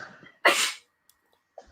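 A single sharp sneeze bursts out in a quiet room, brief and fairly close, followed by silence and faint rustling.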